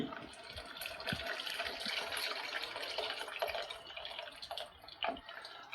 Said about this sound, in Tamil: இப்போ நம்ம முக்கியமான ஒரு பொருளை சேர்க்க போகிறோம். இந்த குழம்புக்கு தேவையான புளி.